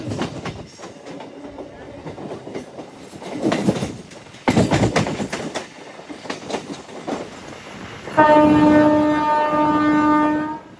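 A MEMU passenger train rumbles and clatters along the track entering Kotha Valasa Junction, ending in a long sustained horn blast.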